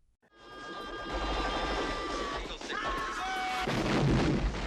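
Night battle scene from the Vietnam War film Apocalypse Now, with explosions and gunfire under a continuous roar, sustained and loud after a brief silent start, with whistling and whining tones layered on top.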